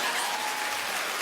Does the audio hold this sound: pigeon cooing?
no